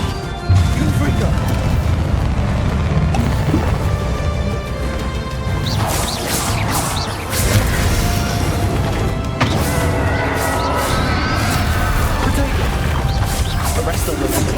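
Fiery Confringo spell blasts crash out in Hogwarts Legacy combat, loud bursts and whooshes over a dense orchestral score and battle noise, with voices shouting amid the fight.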